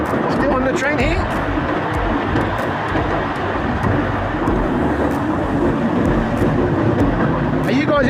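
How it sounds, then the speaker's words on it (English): Mini train ride around a lakeside park at Rabbit Hole Park in Phuket, Thailand, giving a steady, loud rumble and rattle of the moving train throughout, with people talking over it. "Still on the train here."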